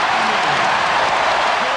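Arena crowd roaring and cheering at an NBA Finals game in Chicago, Bulls against the Seattle SuperSonics, a dense, loud, continuous wash of voices and applause filling the whole moment.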